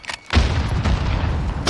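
A frag grenade bursts in a first-person shooter video game, a single loud, close boom with a rumbling tail, then another sharp hit right at the end.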